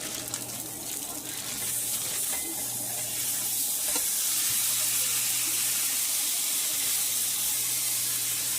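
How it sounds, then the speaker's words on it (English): Ground chuck sizzling steadily in a hot pan, a continuous crackling hiss that grows slightly louder, with faint clinks and a low hum underneath. "my pan is hot, so I'm going to put my ground beef on"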